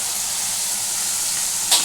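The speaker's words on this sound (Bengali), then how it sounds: "এটাকে এখন ভালোভাবে আমাকে নাড়তে হবে।" Spice masala for a Bengali doi potol (potol in yogurt gravy) sizzles steadily in a pan as it is stirred, a close, even frying hiss with a short scraping burst near the end.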